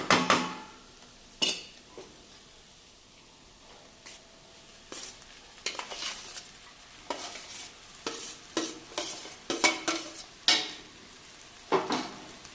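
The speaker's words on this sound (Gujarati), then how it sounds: "હવે આપણે એકદમ હળવે હાથે આ બધું મિક્સ કરવાનું છે" Rice and boiled vegetables gently stirred together in ghee in a pot, a series of soft scraping, clinking spoon strokes at uneven intervals over a faint sizzle.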